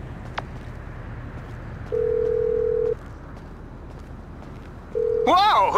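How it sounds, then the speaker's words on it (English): In the video game GTA 5, a phone ringtone plays as a steady electronic tone that repeats after a pause, then turns into a warbling melodic ring near the end over a low background. "Who changed my ringtone?"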